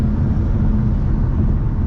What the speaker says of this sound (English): Oh, it's a plane landing.